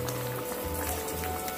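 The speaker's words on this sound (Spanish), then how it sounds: "aquí mi arroz ya está hirviendo" Aromatic rice with vegetables boils in a pot, giving a brief, steady bubbling and spattering with a low hum underneath.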